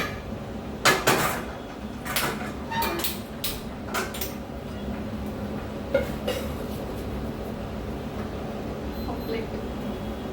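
A metal tava griddle pan set down on a stove gives a few sharp clanks and knocks early on, then quieter handling sounds over a steady background hum.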